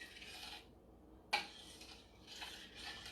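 A fork scraping and clinking around a pan of simmering homemade vegetarian gravy, with soft rubbing strokes, one sharp metallic tap, and a low background hiss, fairly quiet and close.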